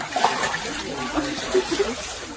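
Floodwater rushing and splashing in a steady turbulent torrent after a downpour, like a mountain river, a close, continuous churning flow with scattered splatters.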